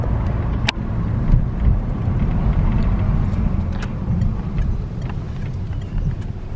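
A car rolls along with a steady engine drone and road rumble heard from inside the cabin, punctuated by a few faint clicks and knocks, with no talking.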